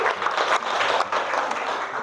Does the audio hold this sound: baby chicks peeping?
no